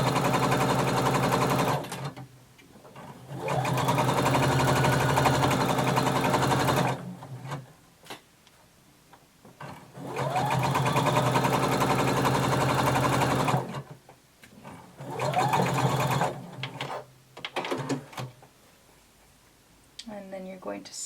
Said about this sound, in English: you're going to sew both side seams using 5/8 of an inch seam allowance